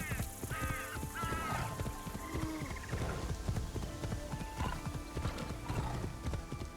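Horse hooves clip-clop steadily at a gallop with a brief neigh in Assassin's Creed Shadows, close and continuous over a low background hum, with no speech.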